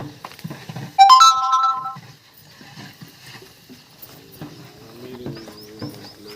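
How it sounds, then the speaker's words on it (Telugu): A phone rings during a call to a mother: a short, bright melodic tone rises clearly for about a second, then gives way to quieter, scattered background noises. "నేను అమ్మకు ఫోన్ చేశాను"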